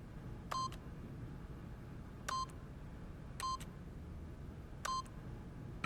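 Keypad tones from a PIN code entry in the video game The Stanley Parable, with four short electronic beeps spaced unevenly over a steady background hiss, each crisp and close.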